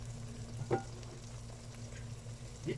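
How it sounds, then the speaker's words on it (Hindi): Chicken franks frying in a pan, a quiet, steady sizzle with a low hum beneath and a couple of soft utensil knocks, close by and without any talking. "तो इसको थोड़ी देर करना है फ्राई।"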